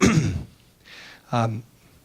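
A single man in a room coughs once, then follows it with a second short, harsh cough-like throat clear after a quiet pause, close and fairly loud, with no talking.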